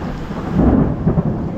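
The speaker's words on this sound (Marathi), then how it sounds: "हे बघा परत आला पाऊस" Monsoon rain returns in the Konkan countryside as a steady, loud, dense rush of falling water with a low rumble underneath, close and continuous without voices.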